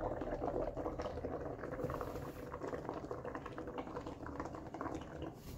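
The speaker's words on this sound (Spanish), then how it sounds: "Ven que ahí van saliendo burbujas. Ustedes van a seguir soplando hasta que sigan saliendo" Air blown into ceramic bubble glaze produces a continuous close bubbling and popping patter that stays fairly even throughout, with no speech.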